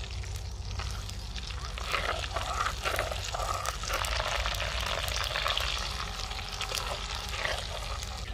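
Whole cumin, green and black cardamom, cloves and cinnamon frying in a pan of oil for a white beef karahi, giving a steady close sizzle with faint stirring that runs unbroken for several seconds.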